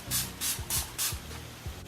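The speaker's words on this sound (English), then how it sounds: "I'm going to go ahead and use my Slay All Day setting spray from Gerard Cosmetics" Several short bursts of Gerard Cosmetics Slay All Day makeup setting spray, about four quick hissing pumps close to the mic, with a fifth later, over low background music.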